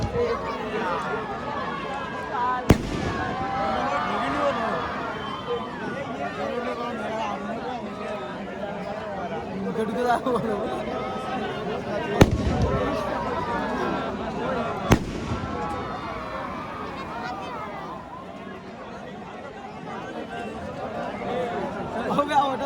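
Fireworks go off outdoors at a football match, with a few sharp, loud bangs and crackles spread out over a constant crowd chatter and nearby voices talking.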